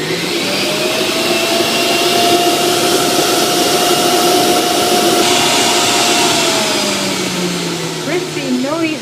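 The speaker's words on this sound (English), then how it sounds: "I'm going to turn it on now for the first time." A Sage Nutri Juicer Pro runs at setting 5, set for apples: a loud, steady motor whine and roar holding constant for the whole stretch, with a faint voice briefly near the end.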